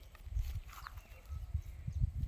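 Cows in a pasture move about, their steps thudding dully and unevenly at close range, with faint rustling between them.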